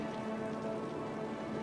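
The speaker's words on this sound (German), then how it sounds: "Also irgendwie in dem Spiel regnet es auch immer." Rain falls steadily in the Cities: Skylines city-building game, a soft continuous patter on surfaces with no other sounds.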